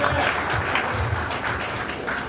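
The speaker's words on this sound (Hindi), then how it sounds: "तालियां बजा के स्वागत कीजिए इनका।" Audience at a community event in Shivaji Nagar applauding to welcome a ward officer, a steady wash of clapping from a gathered crowd with faint voices underneath.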